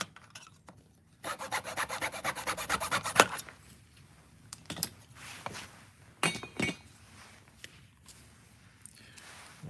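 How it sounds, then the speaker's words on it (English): Sandpaper is rubbed over hardened resin on a miniature diorama piece, with bursts of close, gritty scraping strokes separated by pauses and a few light clinks and taps. "Just gonna sand that resin down a little bit."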